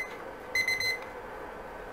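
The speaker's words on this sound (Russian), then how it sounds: "Зачем-то включила еще раз таймер." A brief electronic alarm beeps in a quick repeated burst of high, piercing tones, then stops, leaving quiet room noise.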